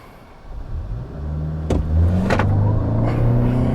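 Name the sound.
2021 Toyota Sienna Hybrid brake-boosted launch acceleration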